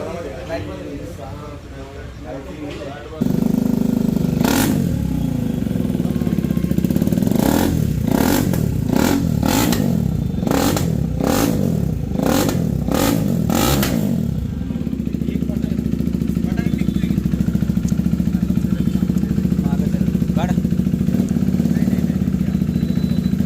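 Motorcycle with a modified silencer, heard close and loud. A low idle rumble breaks into a rapid string of sharp, crackling rev bursts, then settles back to a steady drone, with voices around it.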